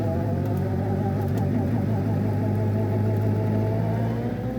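An MK Indy Sport 200 fitted with a Gen 2 Suzuki Hayabusa engine rolls along the road, giving off a steady, close engine drone and road rumble that holds an even pitch the whole time.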